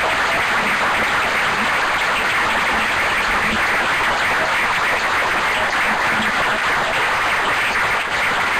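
An audience at a public event applauds a widow, a dense, continuous wash of clapping that holds steady and loud from start to finish with no talk over it.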